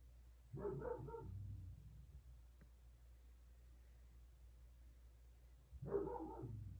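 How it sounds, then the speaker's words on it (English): Two short bursts of dog barking, muffled and somewhat distant as if from another room, separated by several seconds of quiet. "you could hear my dog barking upstairs pretty ferociously"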